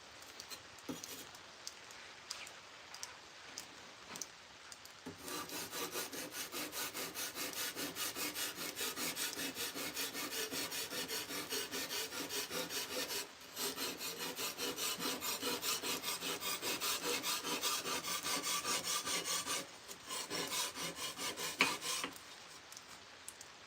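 A sword blade being sharpened with long, steady rasping strokes over a stone or file, starting faint and then running loud and continuous with two brief pauses, up close and with no talking.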